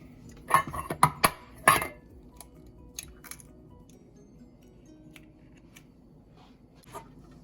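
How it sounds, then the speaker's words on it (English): An organic egg being cracked on the side of a bowl and scrambled, heard as a cluster of sharp taps and clicks, then sparse faint knocks of utensil against bowl, close and quiet with no talk. "I'm actually gonna crack my egg on the side."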